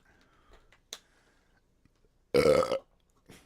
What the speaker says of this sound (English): Sorry, just burped anyway.